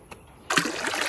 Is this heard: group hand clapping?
no